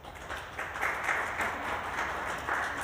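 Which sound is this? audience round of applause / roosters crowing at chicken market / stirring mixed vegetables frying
audience round of applause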